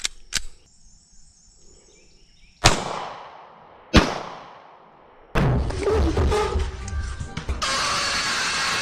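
Budget pistol shots fired outdoors during a recoil test: three sharp, loud gunshots spaced a second or more apart, each with a decaying echo, followed by noisy handling and rustling.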